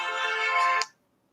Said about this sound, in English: Yeah, that was the phone.